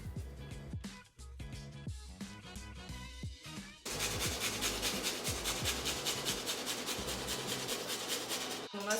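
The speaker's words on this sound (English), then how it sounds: "I'm just gonna go ahead and peel this and then grate it over my shrimp." Peeled garlic grated over shrimp, close and scratchy: irregular short scrapes and knocks at first, then quick, steady rasping strokes in a fast rhythm, no talking.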